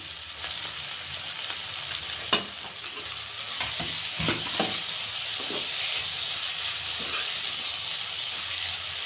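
Onion palya is stirred in a pan over a steady close sizzle, with sharp scraping knocks of the spoon scattered through, one louder clack early on, and no talking.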